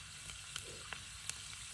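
Hot bacon grease hisses and sizzles in a pan while cooking Civil War camp food, a constant crackle broken by a few sharp pops, heard up close with no talking.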